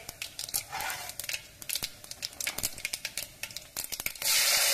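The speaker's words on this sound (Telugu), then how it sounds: "ఆవాలు వేస్తున్నాను, తగినన్ని ఆవాలు." Mustard seeds dropped into hot oil for radish sambar, crackling and popping in rapid, irregular bursts at close range, ending in a steady hiss.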